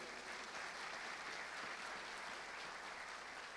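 A church congregation applauds during a sermon, a continuous, even wash of clapping that is faint and distant, with no speech over it.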